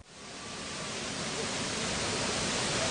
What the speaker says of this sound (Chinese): 现在呢，我离这个德天瀑布是越来越近了